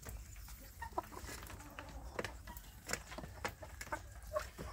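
Kampung chickens in a coop, soft scattered clucks and small scratching, patter noises, faint and fairly distant with no talking.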